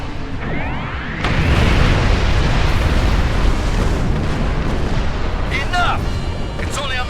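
A Doomsday Weapon in the Star Trek Online game fires wildly, sending out a loud, sustained roar of blasts and explosions. Sharp zapping energy bursts come in near the end.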